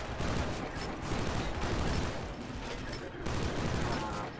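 Dense gunfire and explosive grenade-launcher blasts from a Killzone Shadow Fall online multiplayer match fill the clip in continuous loud bursts, with a player's voice talking over the battle.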